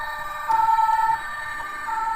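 A Majorette toy fire engine siren beeps with a short electronic tone, one sustained note followed by a brief repeat, sounding thin and close over faint background hiss.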